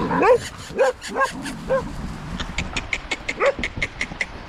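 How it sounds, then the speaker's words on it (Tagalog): Several dogs bark and yip in quick bursts nearby, followed by a rapid run of high, regular yelps. "Daming aso"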